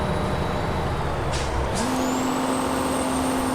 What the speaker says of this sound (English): Yeah, that sounds pretty good. Big turbo diesel inline 6.